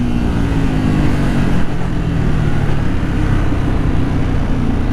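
A 2011 Ducati Multistrada motorcycle engine running loud and close, a dense steady rumble with a slight rise in pitch, no voices.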